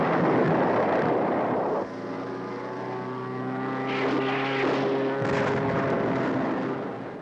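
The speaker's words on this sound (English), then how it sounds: "low-level training drops made by B-26s using iron bombs and rockets" Low-flying B-26 bombers on training runs give a loud, steady propeller-engine drone with a droning harmonic hum. The roar shifts pitch partway through and swells again near the end, with no distinct explosions standing out.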